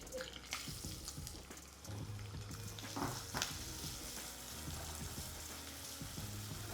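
A whole chopped onion fries in hot oil along with green chillies, curry leaves and cardamom, giving a soft, steady crackling sizzle with occasional stirring scrapes, fairly quiet and uninterrupted.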